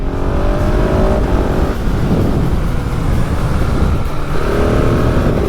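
A 2019 KTM 690 single-cylinder motorcycle engine roars continuously and steadily close up after a downshift, its pitch climbing as it accelerates hard, with a brief dip midway.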